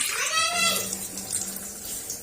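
Water runs and splashes into a cooking pan while mutton keema is being prepared, a steady pour that carries on for about two seconds at moderate loudness with no talk over it.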